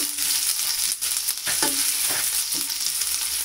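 Chopped chilies sauté in a hot pan for Schezwan fried rice, a steady loud sizzle running throughout with a few soft stirring scrapes, no voices.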